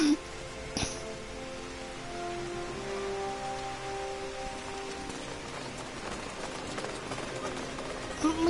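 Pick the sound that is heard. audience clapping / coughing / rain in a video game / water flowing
rain in a video game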